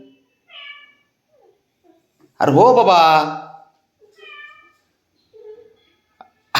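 A woman imitates a cat's meow with one loud, drawn-out wavering call in the middle, with short bits of speech before and after.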